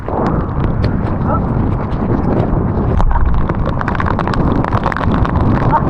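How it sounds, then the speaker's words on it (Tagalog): Strong, steady wind from a sudden squall during the northeast monsoon roars and buffets the microphone throughout, with faint voices and occasional thumps underneath. "Hangin na, lakas."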